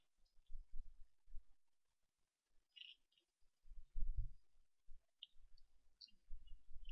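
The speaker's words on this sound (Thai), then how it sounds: "แล้วทำการคลิกเมาส์ซ้ายหนึ่งครั้ง" A left mouse button clicked once at a computer while drawing an arc in GT Designer 3 software, heard as a few faint, brief, sharp clicks spread across an otherwise quiet stretch with low handling noise.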